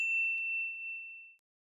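One clean, bright notification bell ding rings out alone and fades smoothly away over about a second and a half, then silence.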